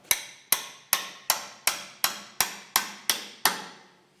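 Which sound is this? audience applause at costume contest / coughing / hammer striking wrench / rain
hammer striking wrench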